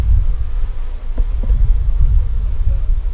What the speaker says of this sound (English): they've got a pretty good amount of bees in here